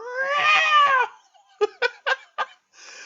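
A person's voice imitates a cat yowling: one long wavering drawn-out yowl, followed by several short choppy yowl bursts, loud and close with no other talk.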